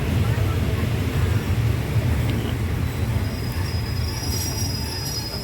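A train rumbles steadily nearby at Aranyaprathet railway station in Thailand, with metallic wheel squeals rising toward the end, steady and fairly loud; faint voices blend into the background.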